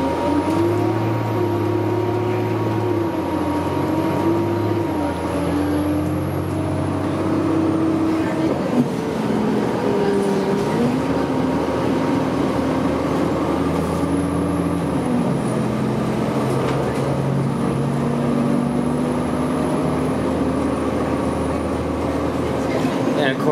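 A Toronto TTC Orion VII city bus merging onto Highway 427, heard from on board as a steady engine drone with whining tones that rise and shift while it accelerates.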